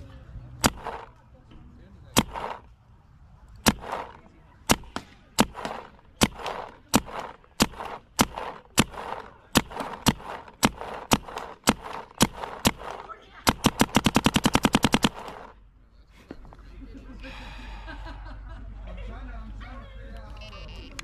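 A paintball marker fitted with a Lone Paintball Overcore barrel fires a long series of sharp single shots at a steady pace, speeding into a quick cluster near the end, while someone talks between the shots.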